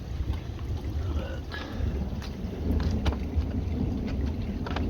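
Strong wind gusting outdoors during a thunderstorm beside a garden koi pond, a steady low rumbling roar that swells louder midway, with faint trickling water and occasional buffeting bursts.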